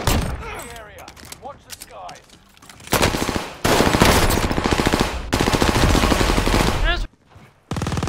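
Automatic gunfire in Call of Duty Warzone, loud sustained bursts of rapid shots with short pauses between them, and voices heard between the bursts.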